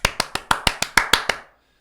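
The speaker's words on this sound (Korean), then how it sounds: "박수 한번 치겠습니다" Nine sharp hand claps in a quick, even rhythm, close and dry, then silence.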